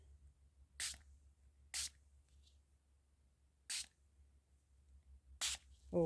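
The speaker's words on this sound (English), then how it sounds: "I've got some yellow food colouring here as well, and this is in a spray bottle" Four short, sharp hissing sprays from a spray bottle of yellow food colouring onto paper, spaced irregularly with quiet gaps between them, close and distinct.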